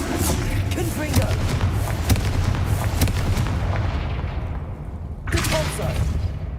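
Confringo explosive spells fire in the Hogwarts Legacy video game, setting off a dense run of loud, booming blasts and crackling bursts that fill the whole stretch, with a brief lull before another sharp burst near the end.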